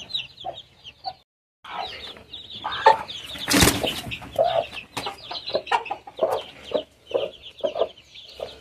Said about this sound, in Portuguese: Aí já tá chamando os pintinhos, ó.